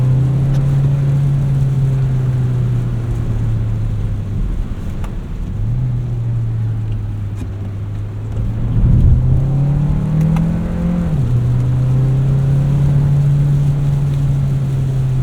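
A 2025 Hyundai Santa Fe Hybrid Calligraphy AWD with a hybrid powertrain and 6-speed gearbox pulls hard, its steady engine drone rising and falling in pitch through several shifts, heard up close from inside with no talking.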